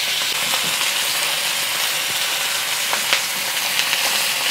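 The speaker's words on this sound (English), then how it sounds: "I'm gonna add my pork directly into the wok" Pork searing in hot avocado oil in a wok gives a loud, steady, close sizzle and crackle that runs without a break, with occasional sharper pops.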